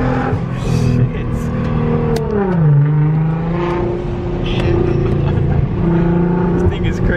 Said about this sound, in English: But then I heard the downshift. I was like, oh, that's a GTR coming.